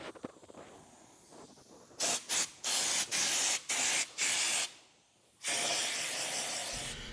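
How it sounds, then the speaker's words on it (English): Spray gun blasting coating onto an old truck chassis frame during restoration, nozzle set for maximum material output and widest cone; several loud hissing bursts, then a long continuous spray pass, close and alone. "with the spray nozzle adjusted for the maximum amount of material output and the widest possible cone, now I can start spraying"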